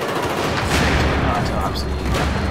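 Battlefield 4 close-quarters shooter combat, loud and dense: a shotgun firing amid continuous overlapping gunfire and bursts, with chaotic battle noise throughout and no quiet gaps.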